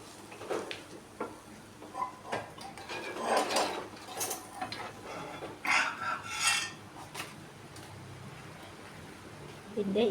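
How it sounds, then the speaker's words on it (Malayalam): Spinach and taro stir-fry being stirred in a pan with the lid off, giving soft intermittent scraping and rubbing of a spoon against the pan, with clinks, under steady sizzling background. "അടപ്പൊന്ന് മാറ്റി നമുക്കൊന്ന് ഇളക്കി കൊടുക്കാം"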